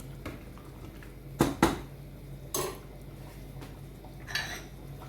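Black chickpea curry spiced with garam masala and cinnamon is served out of a pot, giving a few sharp metal clinks and scrapes of a spoon against the pot and dish, spaced irregularly over a quiet kitchen background.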